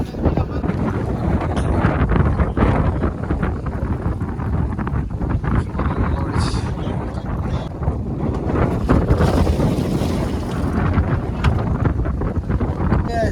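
A fishing boat running toward shore on the open sea, a continuous engine drone and water rush buffeted by loud wind noise on the microphone, steady throughout.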